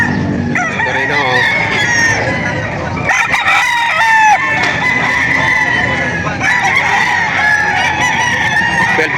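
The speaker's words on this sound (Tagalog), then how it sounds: "Marami ho dito binibentang manok sa Padre Garcia, Batangas." Many chickens and roosters cluck and crow together in a busy, noisy crowd at a livestock auction market in Padre Garcia, Batangas, with loud overlapping calls and people talking in the background.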